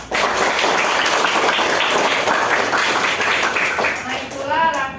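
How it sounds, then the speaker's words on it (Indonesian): Children in a classroom clap together for classmates who demonstrated the funeral prayer, a loud sustained burst of applause that thins out near the end, where voices begin to emerge. "Pengen anak tepuk tangan untuk kalian semua yang sudah mempraktekkan sholat jenazah."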